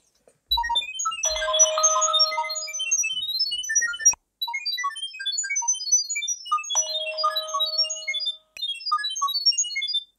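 A smartphone near a Tenvis TH661 security camera plays a rapid stream of short electronic pairing tones for Wi-Fi setup, scattered chirps over about ten seconds with two longer sustained tone bursts and brief gaps.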